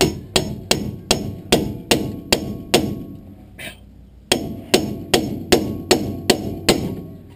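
Hammer strikes on a car suspension bushing being driven down during a repair, about a dozen sharp metallic blows in a steady rhythm with a short pause midway, loud and close with no talking.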